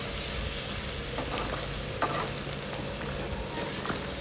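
Spoon scraping and stirring through a simmering egg and prawn curry just after chili powder, salt and garam masala go in, with a steady soft sizzle and a few sharper clinks against the pan, close and continuous.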